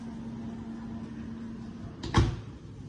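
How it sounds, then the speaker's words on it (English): A single short clunk of a microwave door latch popping open after its release button is pressed, heard close up over a steady low appliance hum. "To open the microwave, here is the button"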